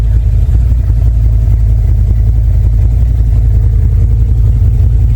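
A CFMoto UForce 1000 side-by-side sits running, a loud, close, steady low engine rumble that holds an even idle throughout with no other sounds.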